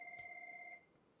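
A telephone rings with a single steady electronic two-tone burst that is fairly faint and lasts under a second before cutting off.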